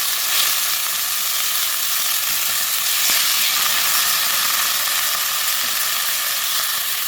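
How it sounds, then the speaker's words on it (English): Ginger fries in a hot pan alongside chicken thigh, giving a loud, steady sizzle and hiss that holds constant from start to finish, close and uninterrupted, with no voices. "Just put ginger while frying to eliminate the things or fishy."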